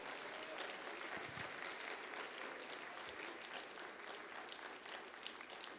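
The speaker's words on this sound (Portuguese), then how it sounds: "Pode dar uma salva de palmas ao Senhor Jesus" A church congregation claps for Jesus during a sermon, steady dense applause filling the room throughout, moderately distant and even.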